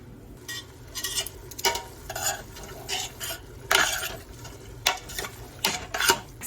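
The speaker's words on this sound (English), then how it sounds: "And we just want to get it back sizzling again." A spoon scrapes and clinks around a pot of chili with chorizo in irregular strokes, over a low steady sizzle of frying, close up with no talking.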